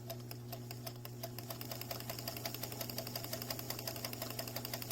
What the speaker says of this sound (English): now we're going to sew the channel for the drawstring, and that, again, we use the straight stitch